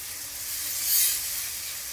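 Fresh tomato paste fries in hot masala for egg chilli masala, giving a soft, steady, close sizzle and hiss that swells briefly midway, with no talking.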